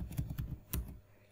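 Quick bursts of keystrokes on a computer keyboard while entering code, a few close, crisp clicks in uneven rhythm that end in a short pause.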